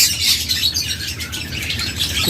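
A crowd of budgerigars in an aviary chirps and squawks continuously, a dense, busy chatter filling the space with no voices.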